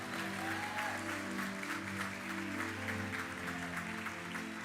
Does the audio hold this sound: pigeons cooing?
no